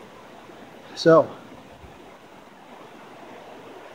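Abrams Creek in the Smoky Mountains flows with a steady, close rushing wash of water, and a brief spoken word cuts in early.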